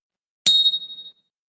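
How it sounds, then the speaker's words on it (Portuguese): A small bell is struck once during a relaxing meditative session, giving a single bright, high ding that rings briefly and fades within about a second, alone in silence. "Vou bater o sininho, não se assustem"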